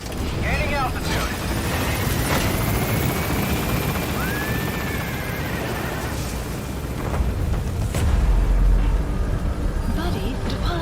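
Helicopter lifting off in Metal Gear Solid V: The Phantom Pain, a steady loud rotor roar that swells further near the end, with game radio voices and effects layered over it.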